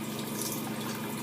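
Water streams from a faucet over a MAC 209 makeup brush, a steady, close, broadband rush without talking.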